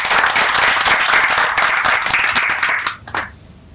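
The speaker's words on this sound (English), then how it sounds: "Let's give them a round of applause." Audience applause at a human rights court awards address: dense, steady clapping from a crowd for about three seconds, then quickly thinning out and fading to near silence.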